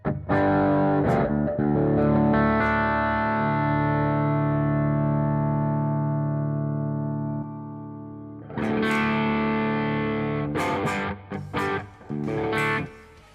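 Electric guitar through the Grammatico amp model in Line 6 Helix Native software. A single chord rings out loud and slowly fades, then a few quicker strums and picked notes follow, with slight reverb.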